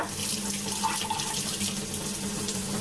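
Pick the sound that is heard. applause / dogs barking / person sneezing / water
water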